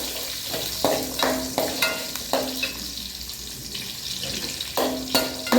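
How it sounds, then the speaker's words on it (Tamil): Onion and garlic sauté in a pan for a fish curry, giving a continuous sizzle broken by repeated scraping stirs of a spoon against the pan, close and alone. "இதன் கூட வெங்காயமும் நான் ஆட் பண்ணுறேன். வெங்காயமும் பூண்டும் பொன்னிறமாக வதக்கி வரணும்."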